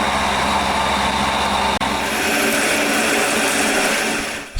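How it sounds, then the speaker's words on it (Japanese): A milling machine cuts along the side of a metal workpiece with a steady, loud grinding whine and a low machine hum, broken by one brief dip before running on and cutting off at the end. "セット終わったので、横を削ってきます。"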